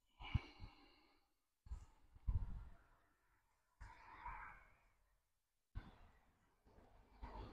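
Repeated slow exhalations during Zhineng Qigong breathing practice, soft airy breaths in several separate bursts with quiet pauses between, close and fairly faint, no talk.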